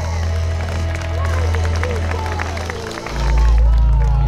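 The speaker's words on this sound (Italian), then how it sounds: "Vai con l'applauso!" A live Italian summer show audience applauds and cheers as a performer is introduced, dense clapping and crowd noise with music swelling loudly underneath near the end.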